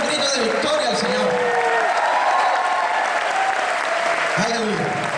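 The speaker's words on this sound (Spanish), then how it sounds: "¿Cuánto le dan un aplauso al Señor?" A church congregation at a Spanish-language worship service breaks into loud, sustained applause, with a voice speaking over the clapping at the start and again near the end.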